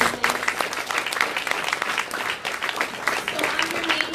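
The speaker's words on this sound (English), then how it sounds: "Just give them another round of applause." A panel discussion audience on athlete activism gives sustained, dense applause throughout, a steady wash of many hands clapping at close range with a few faint voices mixed in.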